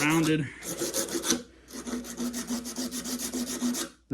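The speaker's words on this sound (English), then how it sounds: "use it as a little strip to really get some sanding done here" A sandpaper strip rubs back and forth along a wooden longbow, a rough, raspy scraping that comes in quick close strokes, with a short pause partway through.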